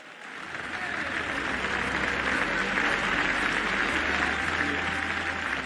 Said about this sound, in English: Let's give them a round of applause, okay?